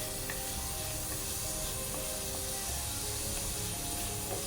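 Onions and spices sautéing in a pan for Kerala-style banana flower thoran, a steady low sizzle and hiss running evenly throughout with faint stirring clicks, no voices.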